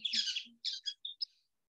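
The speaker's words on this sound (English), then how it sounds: "So these are our nuthatches" White-breasted and brown-headed nuthatches give a quick run of high, nasal squeaky calls, a few short notes in a burst and then quiet.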